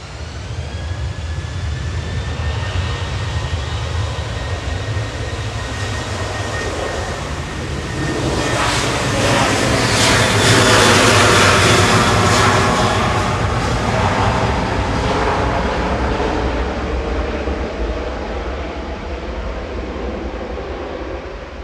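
A Boeing 737-800 jet departs Manchester Airport bound for Brussels Charleroi, its engine roar swelling loud and broadband mid-clip with a high whine, then slowly easing while the rumble continues, no talking over it.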